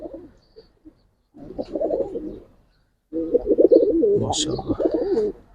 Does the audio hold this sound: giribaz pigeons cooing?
yes